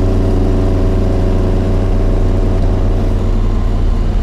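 Loud, close, steady running of a healthy 1967 Alfa Romeo Giulia Sprint GT four-cylinder engine, likely from an earlier Duetto or Giulia, a constant even drone with a strong low rumble.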